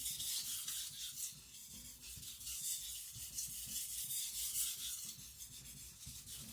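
A custom Patrik Carlvik nakiri knife has its edge sharpened, blending the micro bevel into a convex edge, producing a steady, close, hissing rasp of steel strokes on a stone, repeated without pause and with no voices.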